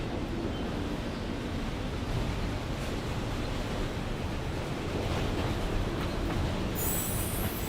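A freight train rolls past with an old Conrail auto rack car, a dense continuous roar of wheels and wagons, close and steady, with faint squealing near the end.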